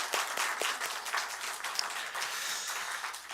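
A church congregation applauding, dense scattered hand claps filling the room steadily for a few seconds.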